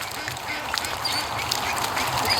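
Young ducks quack in a quick, chattering run, close by and fairly loud over steady outdoor noise.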